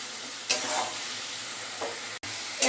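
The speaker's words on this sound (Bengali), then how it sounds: "এবার মশলাটা একটু কষিয়ে নিই" Spice masala with turmeric stir-fried in a pan, a steady close sizzle and hiss with a few brief scraping stirs, no voices.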